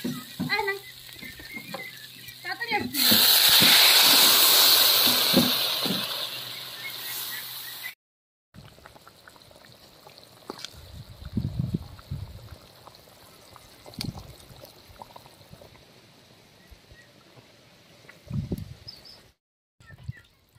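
Water hits a pan of frying masala for pakal (eel) fish curry, bursting into a loud, roaring hiss that swells and fades over a few seconds; after a break, quieter sizzling continues with scattered spoon scrapes and clinks.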